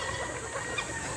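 Faint clucking from chickens, soft and scattered against a steady background hiss.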